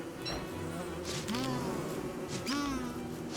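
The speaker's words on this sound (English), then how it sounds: "And we'll also get honey from killing these bees." Bees buzz in the video game Don't Starve, a close, droning insect hum with rising and falling whines as they fly near, alone without talk.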